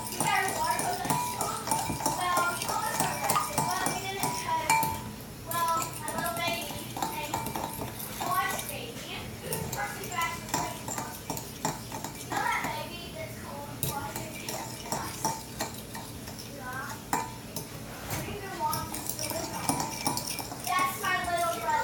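A fork scraping and clinking against a bowl while pink cloud slime is mixed, with repeated close metallic taps and squelchy stirring that run under a person talking throughout.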